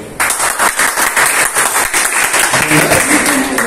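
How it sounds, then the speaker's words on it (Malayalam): A crowd bursts into lively applause for teachers at a school opening ceremony, many hands clapping together in a dense, steady roar that carries on for several seconds. "ടീച്ചർമാർക്കിരിക്കട്ടെ നല്ല ഒരു കൈയടി."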